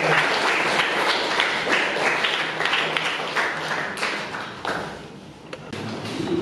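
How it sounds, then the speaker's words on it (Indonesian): Students in an eighth-grade science classroom clap their hands together in a dense, steady burst of applause that fills the whole stretch. "tepuk tangan untuk kita."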